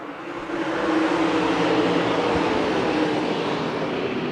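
Late model dirt track race cars roar together at the green flag in Fairmont, West Virginia, a steady loud wall of engine noise that swells after the first half second and holds without pause.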